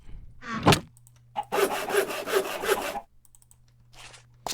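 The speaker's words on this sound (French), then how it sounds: "Il me fallait une scie pour les découper en petits morceaux." A saw rasps back and forth in a quick, steady rhythm for a couple of seconds, cutting bones into small pieces, bracketed by short scraping and knocking sounds.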